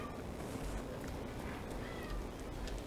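A cat meows a few times in Dragon Age Inquisition's Jaws of Hakkon expansion, the soft cries sitting inside a steady wash of ambient game noise throughout.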